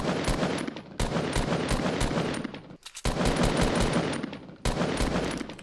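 Loud, close gunfire in Fortnite Battle Royale comes as sustained rapid bursts of shots, broken by brief pauses between volleys.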